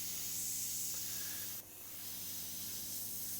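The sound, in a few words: airbrush spraying sepia paint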